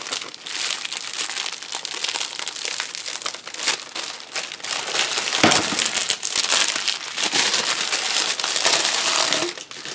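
Scissors snip and crinkle through shamrock wreath material from a Dollar Tree wreath form, a steady close run of crisp rustling and crunching cuts with no talking.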